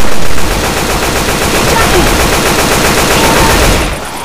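Rapid automatic gunfire in the zombie shooter Left 4 Dead 2, a loud continuous burst of shots filling nearly the whole stretch before dropping off at the end, with faint voices mixed in.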